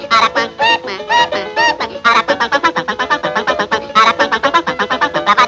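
A chattering, rapid-fire warble with quick repeated notes, loud and continuous, a cartoonish voice imitating the peculiar song of the aracuan bird.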